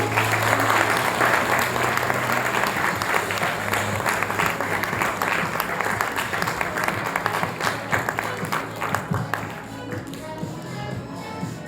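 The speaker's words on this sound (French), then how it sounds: "vous demande d'applaudir notre deuxième candidate de l'année" Audience at a public speaking contest final applauding a candidate, a loud, close burst of many hands clapping that carries on steadily and thins slightly toward the end.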